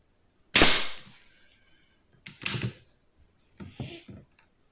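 Three sharp air pistol shots, an Artémis CP2 firing JSB RS Diabolo pellets at a 10 m target, spaced about a second or more apart, each a crisp pop with a brief tail, in a quiet room.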